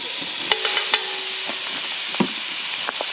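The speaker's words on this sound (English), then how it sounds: "Put a little minced garlic in there." Minced garlic sizzling in olive oil and butter in a pan at an outdoor camp cook, a steady close frying hiss with a few sharp clicks of a utensil against the pan.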